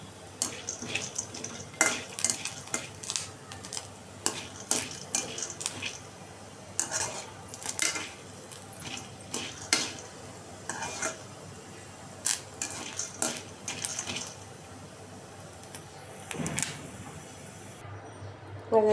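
Taro (kochu) frying in a pan, with repeated scraping and stirring clinks of a utensil against the pan over a soft, steady sizzle, close and moderately loud with no talk.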